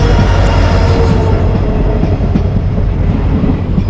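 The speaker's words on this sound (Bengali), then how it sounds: "ফাইনালি কিন্তু ট্রেন চলে এসছে এই দেখো হ্যামিল্টনগঞ্জে" The Siliguri Intercity Express pulls into Hamiltonganj station, a steady loud rumble of wheels and carriages rolling close by with no voices over it.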